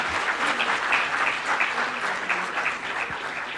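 A dense, steady wash of audience applause fills a government ceremony hall in Ranchi where appointment letters and mementos are handed out, sustained without pause and with no speech over it.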